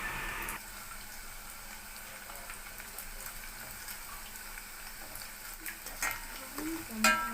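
Dried fish fries in a pan for a curry, a soft steady sizzle with light stirring scrapes and small clinks throughout, fairly quiet and without talk.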